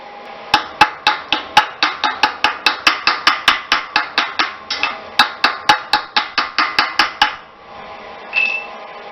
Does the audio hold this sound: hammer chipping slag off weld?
yes